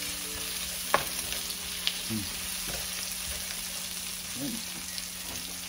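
Lemongrass sautéing in a pan, a steady close hiss and sizzle with occasional scraping stirs, while a person speaks briefly over it.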